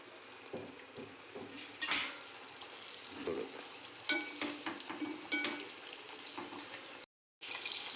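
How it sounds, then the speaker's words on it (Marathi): Puri dough is slipped into hot oil for deep-frying, with a soft bubbling and sizzle under clinks and scraping from handling, close and moderately quiet, ending in a brief dropout. "आता हिला मी चांगलं डीप फ्राय करतो तेल तापलेलं आहे मी आता पुरी सोडतो"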